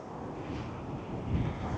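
Strong coastal wind, gusting up to 40 miles an hour near Penmon Lighthouse, roars as a steady broadband rumble buffeting the microphone, swelling slightly toward the end, with no voices.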